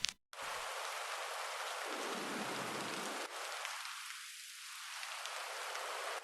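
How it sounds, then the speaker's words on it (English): Steady rain hiss in a soothing music mix, a broad wash of patter that briefly drops out near the start, then thins and returns with shifting low-end filtering, continuous and fairly loud with no voices. "it's a raining sound, right?"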